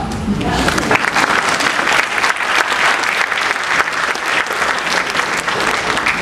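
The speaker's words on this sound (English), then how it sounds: "You all should clap." An audience claps loudly and continuously, a dense wash of hand claps that rises quickly and keeps going for several seconds.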